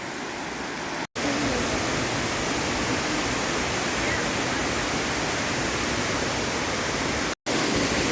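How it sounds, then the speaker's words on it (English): Amicalola Falls waterfall on the approach to the Appalachian Trail, a loud, steady broadband roar of rushing water heard up close, continuous apart from two brief cuts. "So here we are at the falls."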